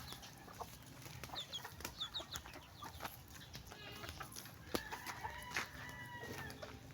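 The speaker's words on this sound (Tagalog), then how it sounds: "Ang sabong na manok." Chickens cluck and call faintly in the background, with a fighting rooster's crow in the mix and scattered farmyard noises, no speech.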